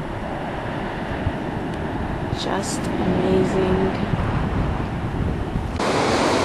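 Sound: ocean waves crashing at Bodega Bay

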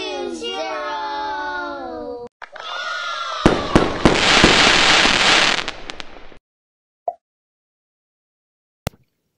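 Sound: fireworks sound effect in a times-tables learning video

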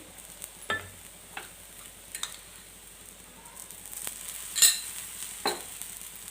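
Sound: dhirde batter roasting on iron tava

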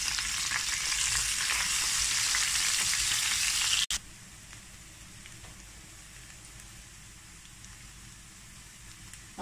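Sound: onions frying in pan

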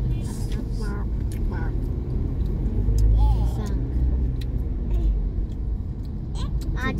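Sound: cars in a traffic jam

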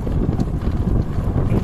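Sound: wind

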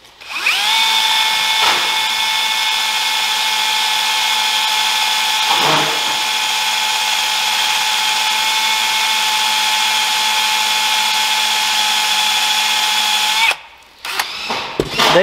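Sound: power drill drilling into soft metal

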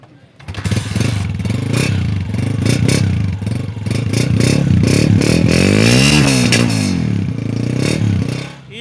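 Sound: motorcycle engine running

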